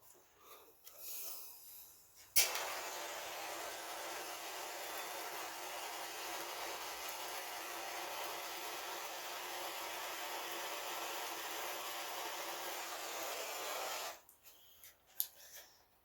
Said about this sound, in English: Torch here and dry it off.